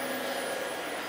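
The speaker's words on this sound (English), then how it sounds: "you're actually steering and driving the Dyson, which I think is lovely" A Dyson DC40 Animal upright vacuum cleaner runs with a steady, loud, high-pitched motor whine and airflow rush, close by and unchanging.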